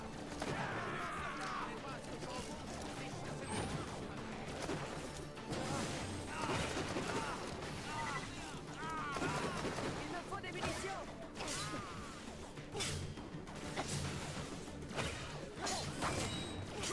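Gunfire and crashing impacts in the video game Borderlands: The Pre-Sequel, dense and continuous under a busy mix of game effects, with voices talking over it.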